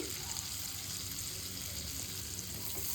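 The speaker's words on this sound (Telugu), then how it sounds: "గార్లిక్ వేసిన తర్వాత గార్లిక్ని కొద్దిసేపు ఫ్రై చేయనివ్వండి." Garlic fries quietly in a pan with a soft, even sizzle that holds steady for a few seconds, heard alone without voices.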